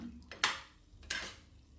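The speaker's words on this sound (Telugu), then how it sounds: "మొత్తం అది ఉప్పు కారం అంతా ముక్కకు పట్టే విధంగా కలపాలి బాగా కలబెట్టాలి ఇట్లా" Mutton pieces mixed with salt and chili powder in a pot, two distinct scraping stirs of a spoon against metal over quiet background, close and fairly soft.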